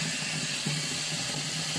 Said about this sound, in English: I have run cold water over them and then drained them again.